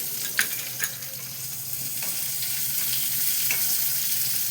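Chopped onion frying in oil for a Bengali boal fish curry, a steady broadband sizzle that swells slightly over time, with a few sharp spatters or stirring knocks near the start and one later.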